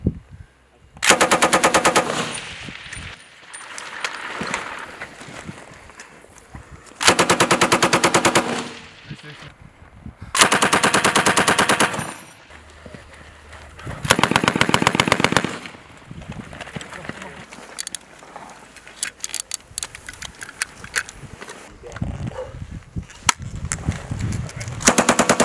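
Machine guns fire long, sustained bursts during a 101st Airborne Division air assault exercise. Several loud, close rattling volleys are separated by quieter gaps, with shouted commands in between.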